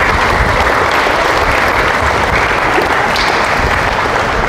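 Senior citizens at a church gathering in Cupang, Muntinlupa give steady, dense applause that fills the room and holds evenly from start to finish with no talking.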